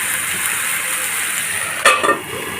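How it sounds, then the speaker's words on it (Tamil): Vegetables for pav bhaji sizzle steadily in a pan, then a lid clanks down on top and the frying carries on, slightly muffled. "நம்ம மூடி போட்டு ஃப்ரை பண்ண வச்சிடலாம்."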